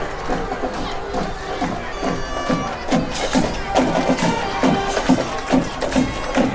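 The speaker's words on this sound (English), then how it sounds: "What a great crowd here." A large high school football stadium crowd of thousands on a hot, steamy night, a loud, churning roar of voices with scattered cheers and shouts building toward the end.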